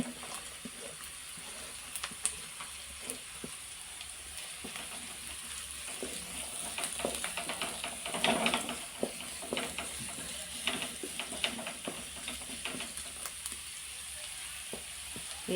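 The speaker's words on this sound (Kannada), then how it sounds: "ಈಗ ಇದನ್ನೆಲ್ಲ ಚೆನ್ನಾಗಿ ಫ್ರೈ ಮಾಡುವ" Carrots and beans stir-frying for fried rice in a lightly oiled pan: a steady soft sizzle with intermittent scraping and stirring clicks, close and moderately quiet, with no talking.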